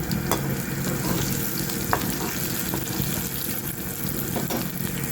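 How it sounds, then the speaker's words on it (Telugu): Ginger garlic paste and cumin fry in hot oil in a pan for a paneer curry, a loud, continuous close sizzle with occasional stirring scrapes and no talking. "కొంచెం అల్లం వెల్లుల్లి పేస్ట్ వేసి బాగా ఫ్రై చేయాలి."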